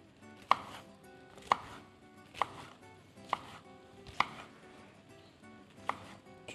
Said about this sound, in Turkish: Küçük küçük doğramaya başladık.